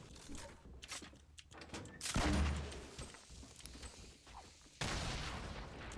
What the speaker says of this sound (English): Where's he shooting that from?